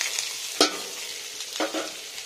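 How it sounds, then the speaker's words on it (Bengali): Radish greens dropped into a hot oiled pan hiss and sizzle, with two sharp bursts of crackling over a steady low frying hiss, close and without voices. "এবার শাকটা দিয়ে নিচ্ছি"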